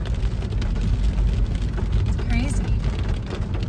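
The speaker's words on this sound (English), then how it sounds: "It's raining a lot now." Heavy rain pours steadily on a misty mountain road in northern Thailand, a dense constant hiss with a low rumble, likely from a moving car, while a voice speaks briefly over it.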